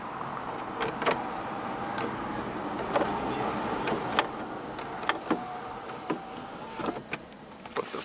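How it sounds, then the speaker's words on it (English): The power sliding sunroof shade of a 2016 Lexus ES350 runs with a faint, steady electric motor whir inside the cabin. Sharp clicks and ticks are scattered over it. "your sunroof with your sunroof controls"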